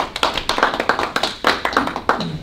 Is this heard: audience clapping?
yes